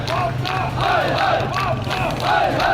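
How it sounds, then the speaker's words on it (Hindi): Street protest crowd in Pakistan chanting slogans against the government, rhythmic massed shouts rising and falling in repeated bursts, loud and close, with a low steady hum beneath. "वहाँ बड़ी संख्या में लोग सड़कों पर उतरे, उन्होंने नारेबाजी भी की"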